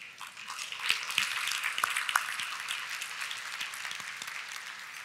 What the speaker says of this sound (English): Good start for the clapping there